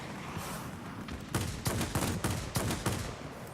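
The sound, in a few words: aircraft guns firing in a video game, J7W2 fighter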